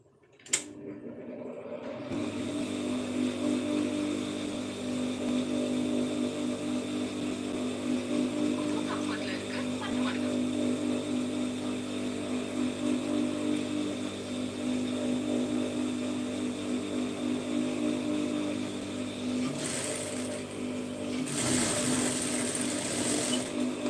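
A sewing machine joins lining blouse pieces: a single click, then a steady, close mechanical whir that runs unbroken for about twenty seconds before stopping, with brief louder bursts at the end.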